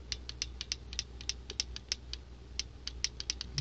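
Harbor Freight 1/4 inch torque wrench working a fastener that is already tight: a faint, quick series of light ratcheting clicks and creaks heard close up, with no voices.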